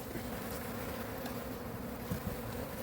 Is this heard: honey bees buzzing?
yes